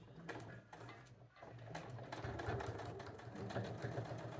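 Sewing machine stitching two floral fabric side pieces together for a small vintage-style card and coin purse, a steady continuous mechanical whir with rapid needle ticking running alone at moderate volume.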